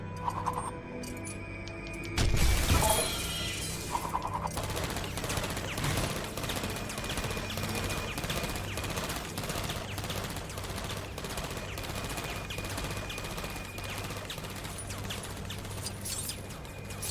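A sentry turret in the LEGO Dimensions Portal 2 game firing in a long continuous rattle of rapid shots, preceded by a brief louder crash, with ticking game effects underneath.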